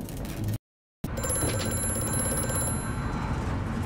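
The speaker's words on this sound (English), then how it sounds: "Aha, phone." A telephone rings in the horror game Amnesia: A Machine For Pigs, a steady mechanical bell ringing amid dense ambient noise, interrupted by a brief half-second dropout before resuming.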